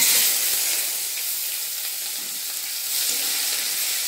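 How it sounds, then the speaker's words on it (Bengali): Chopped onions fry in spiced oil with a steady, hissing sizzle throughout, close and fairly loud, with a few faint stirring scrapes and no voices. "এবার আমি পেঁয়াজ কুচিগুলো দিয়ে দেবো।"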